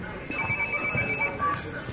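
A telephone rings in an office setting with a repeating electronic trill, half-heard under people talking nearby.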